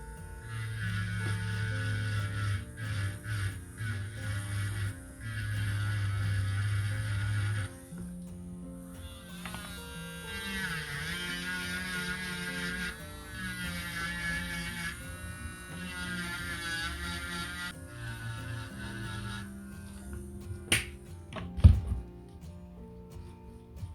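PM 720 nail drill finishing a polygel nail around the cuticle area, a steady high-pitched electric whine that rises and dips in segments with short pauses between passes, close and fairly quiet, with no speech.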